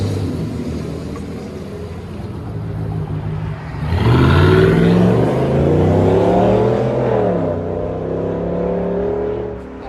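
A 2014 GMC Sierra's 5.3-liter V8 with a Borla Touring exhaust and factory converters idles with a deep rumble, then revs sharply and holds at a higher pitch before easing back down, loud and close.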